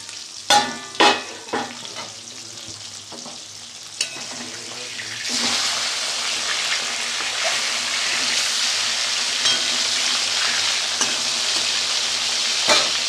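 Boal fish curry (kalia) fries in a covered pan with steady, dense sizzling and spattering. A few sharp knocks and clatters come first, and then the hiss builds and holds loud and continuous.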